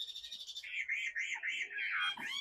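A young hwamei songbird sings a run of bright, rapid chirps and warbling phrases, close and clear against a quiet background, the notes coming in quick repeated bursts for a couple of seconds.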